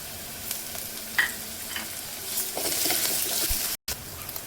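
Chopped onion, garlic and ginger fry in a pan for sev bhaji, giving a lively sizzle broken by spoon-stirring scrapes that swells toward the end, with a brief dropout and no voices.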